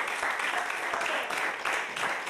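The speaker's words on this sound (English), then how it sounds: "Come on, put your hands together, y'all" Lively audience clapping at a church service, a dense, even wash of many hands with slight swells, fairly close and loud, a few voices mixed faintly underneath.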